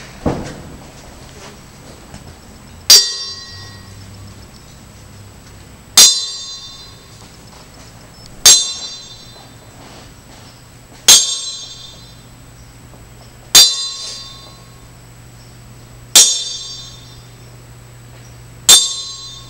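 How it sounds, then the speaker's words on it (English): A ring bell in a wrestling arena is struck for a ten-bell count tribute, eight sharp metallic clangs at even intervals, each ringing out and decaying before the next. "So we're going to do the 10 bell count out of the respect for Dusty Rhodes."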